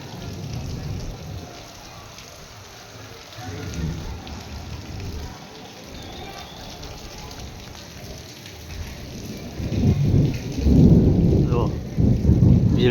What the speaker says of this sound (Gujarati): કડાકા ને ભડાકા થાય છે.